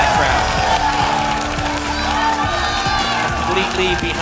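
An esports arena crowd at a League of Championship Series match roars and cheers for compLexity Gaming after their win, a sustained wall of shouting and applause with a caster talking over it.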